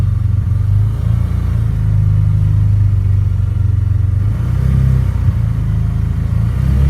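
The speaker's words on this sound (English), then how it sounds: "When we take the idle up to 3000, we're looking at 80." A Polaris Ranger 570 engine runs at raised revs of about 3000 RPM, a loud, steady low drone with a slight waver partway through, close by and without voices.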